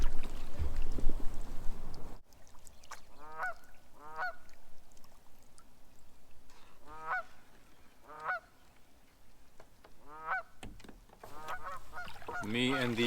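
Canada goose honking repeatedly in harsh, bursty calls near a kayak on the water, fairly close and loud, with a few separate honks spaced over several seconds and a louder cluster at the end.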